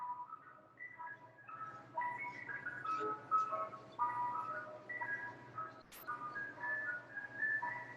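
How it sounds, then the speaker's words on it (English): An ice cream truck passes, its whistly melodic jingle playing faintly at a distance in a continuous run of tune notes, broken once by a sharp nearby click. "the ice cream truck went by here and everything"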